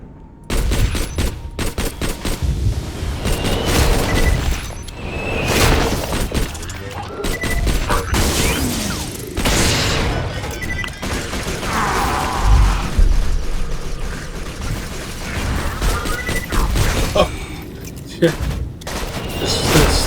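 Acid shotgun with a twin shot accessory firing at a slow rate in Borderlands 2, loud repeated blasts and crashing impacts through a busy battle with a voice talking over it.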